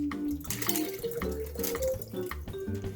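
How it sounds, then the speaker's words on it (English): Water poured off tumbled rocks from a rock tumbler into a bucket, a steady splashing pour running the full length alone, with no talk. "I'll pour that water off into a bucket."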